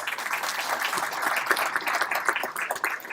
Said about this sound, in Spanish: Un aplauso para ustedes, por favor, muchas gracias.